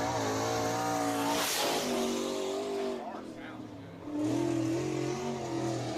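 The number 99 race car during qualifying at Deep South Speedway, its engine a loud, steady roar that rises and falls in pitch as it runs past, under continuous announcer commentary.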